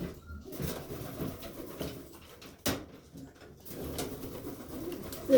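Roller pigeons in a new loft coo softly in low, repeated burbling calls over faint rustling, with a sharp knock partway through.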